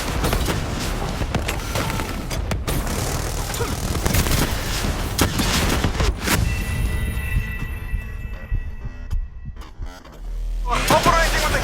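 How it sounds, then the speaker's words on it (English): Gunfire in a Black Ops III campaign mission against a Manticore mech, dense rattling shots and heavy booms throughout, with in-game voices talking over the combat. "We gotta get through her to get to Taylor! Focus fire!"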